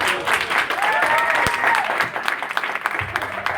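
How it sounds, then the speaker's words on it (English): Audience at a conference applauding steadily, a dense wash of clapping that carries on throughout and thins slightly near the end, heard alone without talk. "give her another round of applause"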